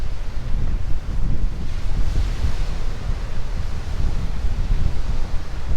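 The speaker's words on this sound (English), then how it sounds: "The wind is picking up here down by the shoreline." Wind blows steadily along a cold ocean shoreline, a dense, loud rush of noise mixed with surf and buffeting the microphone throughout.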